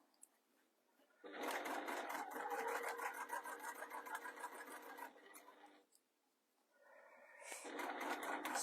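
A sewing machine stitches through six layers of faux leather for a bag, running in a long steady rattling burst, pausing briefly, then starting again, close and clear with no talk.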